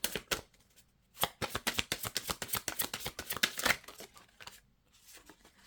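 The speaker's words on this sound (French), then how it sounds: "On va prendre la dernière carte." Tarot-style cards are handled while drawing the last card from a deck, a rapid run of crisp papery flicks and slaps close to the microphone, with a short pause before the flurry.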